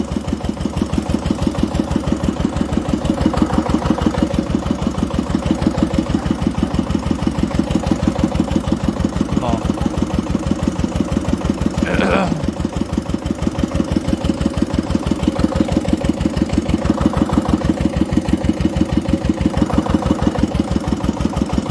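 A homemade SAM S15 tractor engine runs steadily for a long stretch, a loud, close, rhythmic chugging with slight swells in load and a brief sharp noise partway through, with no talking.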